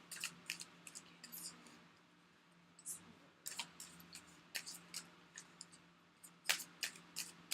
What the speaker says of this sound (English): I'm going to get a shuffle for you guys really quick